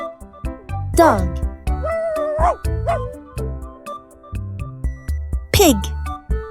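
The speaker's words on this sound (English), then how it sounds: "Dog." A dog gives a few sharp barks and yips with short pauses between them, close and fairly loud, as part of a farm-animal lesson, with a voice naming the animal.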